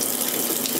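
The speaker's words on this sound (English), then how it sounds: "now I'm gonna pour Blix B out" Blix B film developing chemical is poured into a bottle during home film processing in a bathtub, a short continuous liquid splash and gurgle, close and fairly loud, with no talk.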